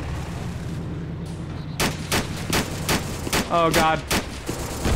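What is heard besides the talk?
half-track vehicle exploding under gunfire in a video game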